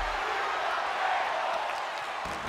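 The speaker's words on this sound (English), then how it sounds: "Crowd chanting for tables." Wrestling crowd chanting for tables inside a WWE arena, a dense, steady roar of many voices filling the whole stretch at even loudness.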